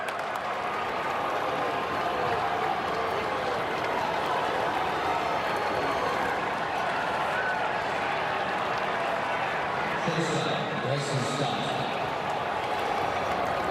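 A baseball stadium crowd at a Phillies–Cardinals Wild Card playoff game roars steadily after a go-ahead two-run single, a dense sustained wash of cheering and applause heard from within the stands, with a commentator talking over it.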